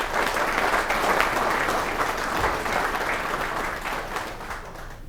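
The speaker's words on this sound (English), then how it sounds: "give yourselves a round of applause" A crowd at a hospital fundraising event claps in sustained, loud applause that fills the space and tapers slightly toward the end.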